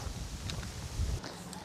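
Outdoor wind buffets a camera microphone in soft, low rumbling gusts, fairly faint, with a couple of brief light clicks and no speech.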